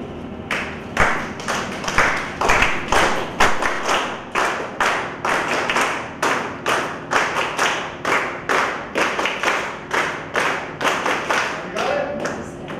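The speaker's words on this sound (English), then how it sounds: "So here's the signal. We'll clap. You do it with me." A workshop class claps a rhythm signal together, with sharp, evenly spaced group claps repeating in a regular pattern for over ten seconds, close and clear, with no voices between them.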